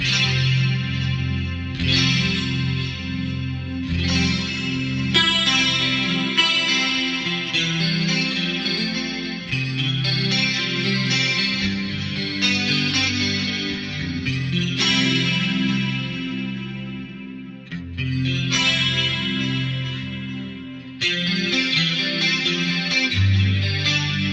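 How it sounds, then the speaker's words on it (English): An electric guitar plays chords and picked notes through a Dimension C chorus effect on an 80s-style rack pedalboard, lush and widening, sustained and shimmering with a slight echo. "turn off the TriStereo Chorus and turn on the dimension C so you can hear the difference"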